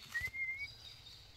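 A young emu chick, about eight weeks old on a free-range farm, gives one faint, thin, rising whistle that fades within half a second, over quiet background.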